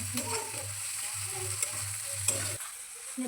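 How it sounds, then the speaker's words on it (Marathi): Tomatoes sautéing in a pan at home, with a steady sizzle and occasional stirring scrapes that cut off near the end. "टमाटर टाकणार, छान ते परतून घ्यायचं."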